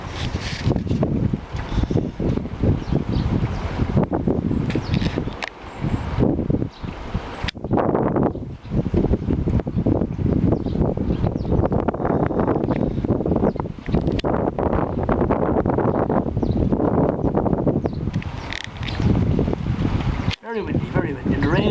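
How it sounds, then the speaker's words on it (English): In a garden with bird feeders on a stormy afternoon, strong wind roars and gusts in waves while heavy rain pours down. The noise is loud and continuous, with brief lulls and rough buffeting on the microphone. "Very windy, and the rain pouring down here on this Friday afternoon."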